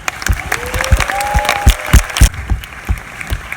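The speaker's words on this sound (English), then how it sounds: "Please do give them a big round of applause." Audience at a film festival awards evening clapping after a prize announcement, a loud burst of hand claps from a crowd that thins into scattered claps toward the end.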